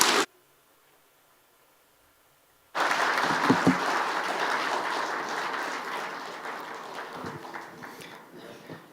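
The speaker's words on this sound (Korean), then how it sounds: "한 번 더 우리 박수로 격려해 주겠습니다" A church congregation breaks into sustained applause during a Sunday afternoon worship service, with dense, steady clapping that starts abruptly after a brief silence and carries on to the end.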